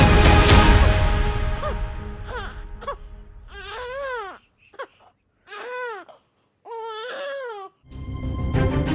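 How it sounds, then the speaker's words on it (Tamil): A newborn baby girl in a village hut cries loudly in several rising and falling wails separated by brief pauses, following a stretch of noisy background. "அந்த குடிசையில ஒரு குழந்தையின் அழுகை குரல் கேட்டது"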